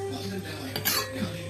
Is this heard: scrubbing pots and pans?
yes